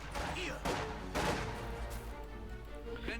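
Battle gunfire in Company of Heroes 2, with rifle and machine-gun bursts and distant explosions in a dense, continuous din under a commentator talking.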